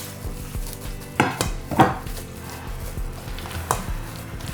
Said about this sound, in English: If you wouldn't mind stirring that up a little bit for me, that would be awesome